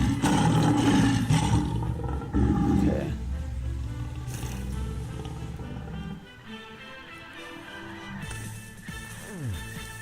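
Lion roar sound bites playing in a Yu-Gi-Oh card game, loud growling roars at first that thin out into a quieter rumbling tail, with a few later bursts and no speech.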